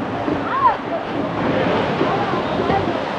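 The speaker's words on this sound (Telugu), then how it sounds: "చేపరాయి వాటర్ ఫాల్ ఎలా ఉందో" Chaparai waterfall in Araku Valley rushes as a steady, broad roar of falling water, continuous and fairly loud, with wind buffeting the microphone.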